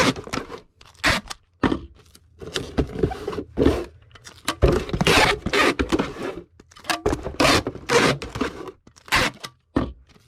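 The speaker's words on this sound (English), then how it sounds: "Our next item will go in an 864 box. So let's get that taped up." Packing tape is pulled off the roll and pressed onto a cardboard shipping box in repeated short, crackling tearing strips. The sounds are close and fairly quiet, with brief gaps between pulls.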